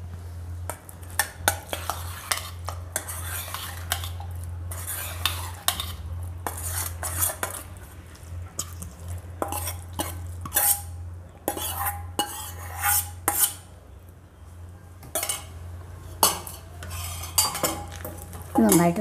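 Dry fruits and nuts that have been soaked are tipped and stirred into a plum cake batter, with repeated close clinks and scrapes of a spoon against a metal bowl over a steady low hum, with no talking.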